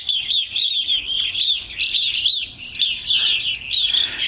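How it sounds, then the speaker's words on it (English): Evening Grosbeaks at a feeder call repeatedly, with a bright stream of chirps and whistled notes overlapping continuously and fairly close. "their call is they're very, very vocal when they show up at the feeder."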